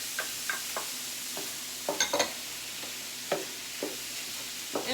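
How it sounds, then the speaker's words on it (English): Brown fried rice and vegetables are stirred in a hot pan, a soft sizzle running throughout with sharp scraping stirs of the spoon at irregular intervals. "I'm just going to stir in my vegetables"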